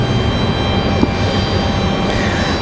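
Loud, constant airliner engine roar from Southwest flight 1793 out of Dallas Love Field, heard close at Raleigh-Durham airport with no voices.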